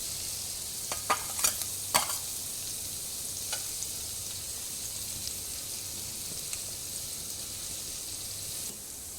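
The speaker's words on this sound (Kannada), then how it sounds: "ಸೇಮ್ ಪ್ಯಾನಿಗೆ 1 ಸ್ಪೂನು ಬೆಣ್ಣೆ ಹಾಕಿ ಬೆಳ್ಳುಳ್ಳಿಯನ್ನು ಅದಕ್ಕೆ ಹಾಕೋದು." Garlic sizzling in butter in a pan gives a steady, soft hiss, broken by a few sharp clicks and scrapes of stirring near the start and again around the middle.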